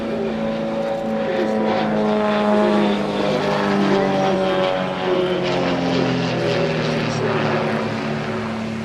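A propeller-driven aerobatic aircraft at the 2016 Malta International Airshow, its air-cooled, fuel-injected 300-horsepower engine droning loud and steady throughout with a shifting pitch as it passes, alone with no talk.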